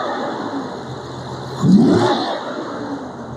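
A Jaguar XJC V12 with modified air induction revs up, its steady engine drone swelling to a louder throaty burst in the middle before settling back to a smooth run.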